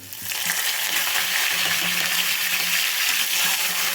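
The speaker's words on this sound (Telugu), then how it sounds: "చూడండి తాలింపు అయితే బాగా వేగిందండి." Curry leaves and asafoetida in a tempering crackle and sizzle in hot oil, a steady dense frying hiss that starts abruptly and continues at an even, moderate level.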